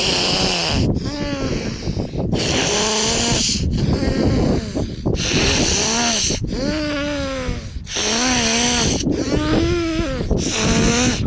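Slow, heavy nasal breaths drawn through one nostril during a pranayama exercise, repeated in long rough pulses of roughly one to two seconds each, close and loud with no talk.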